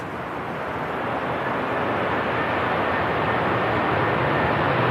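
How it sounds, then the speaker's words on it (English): A Lufthansa Airbus A321 airliner touches down at Manchester Airport, a loud, steady broadband engine and wind roar that swells slightly over a few seconds. "Lufthansa A321 just touching down"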